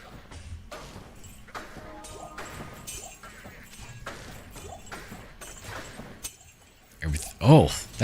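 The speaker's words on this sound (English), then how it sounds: "Oh, that's really loud in my ear. Explosion sound." Crashing, smashing bursts in the Diablo 2 Resurrected video game, with scattered thuds and impacts through busy combat, then a much louder explosion burst near the end.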